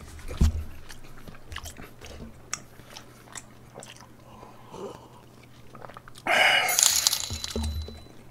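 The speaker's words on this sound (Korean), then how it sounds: "김치찌개와 김치전 와구와구하는" Someone eats kimchi stew and kimchi pancake in a close, quiet setting, with repeated soft bites, wet chewing and crunching, and a louder burst of crunchy chewing toward the end.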